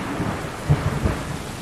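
Rain and thunder in the video game Stray: a steady hiss of rainfall with deep thunder rumbles swelling around the middle, and no voices.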